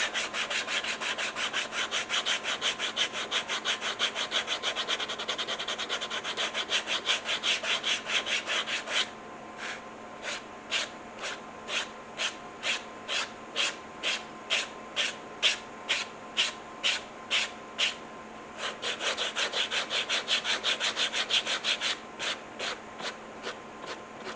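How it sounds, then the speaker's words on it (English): Abrasive sanding on the edge of a leather phone holster, with brisk, regular rubbing strokes that speed up and slow down, close and fairly loud, over a faint steady hum. "I'm actually going to sand that down until those two pieces meet"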